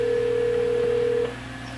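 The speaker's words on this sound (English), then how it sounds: "the phone rang" A telephone sounds on stage during a high school theatre performance, a steady electronic tone held for just over a second and then cutting off, over a constant room hum.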